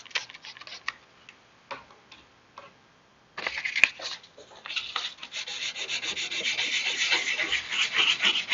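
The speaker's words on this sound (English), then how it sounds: "Just lightly sanding that smooth and then polishing that up to a nice shiny finish" Wet sanding of car clear coat overspray during a peeling clear coat repair, a few scattered light scrapes followed by steady, close, rhythmic rubbing strokes that grow denser and louder.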